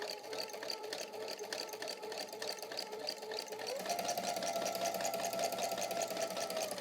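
A sewing machine sews a straight stitch through fabric, a quiet, close, continuous whirring and rapid needle ticking that rises slightly in pitch and speed partway through.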